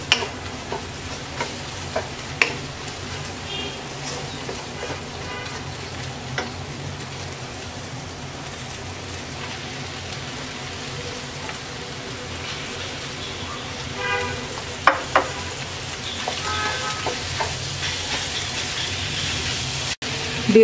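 Radish greens with shrimp sizzle in an oil-filled pan, a steady frying hiss throughout, with occasional scraping and clinking of a spatula as the greens are stirred.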